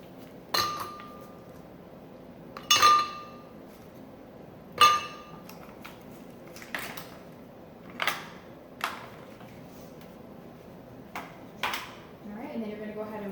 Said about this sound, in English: we're going to put some ice cubes in there